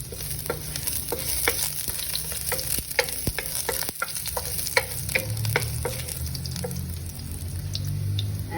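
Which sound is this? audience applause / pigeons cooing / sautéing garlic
sautéing garlic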